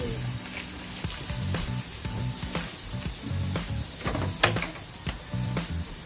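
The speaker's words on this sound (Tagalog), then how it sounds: "Guys, magigisa na po tayo ng ating sayote. So lalagyan natin ng butter." Butter melts and sizzles in a pan ahead of sautéing chayote, a soft continuous frying hiss broken by light clinks and stirring scrapes at moderate distance.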